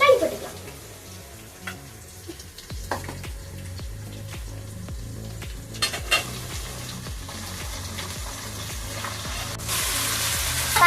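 Onions sautéing in a pan with turmeric for dry fish curry, a soft sizzle with repeated scraping stirs and a few clinks, a voice heard briefly in the background.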